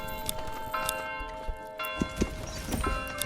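A mule's hooves clop in an irregular sequence of hollow knocks in the Manor Lords village game, set over sustained tonal background music.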